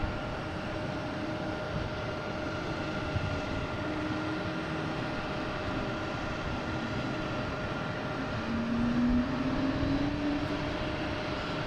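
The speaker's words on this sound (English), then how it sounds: "We have this JetBlue here coming in from Denver," A JetBlue Airbus A220 airliner arriving from Denver at Boston Logan, a sustained engine drone with steady tonal hums and a rising whine near the end, fairly loud and continuous, with no talking.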